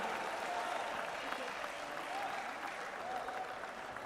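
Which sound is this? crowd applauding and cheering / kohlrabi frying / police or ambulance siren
crowd applauding and cheering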